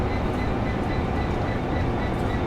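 A train in Train Sim World 2 rumbles steadily during a coupling-up scenario, with a continuous low, heavy rolling drone and faint higher hum, close and unchanging with no distinct clank standing out.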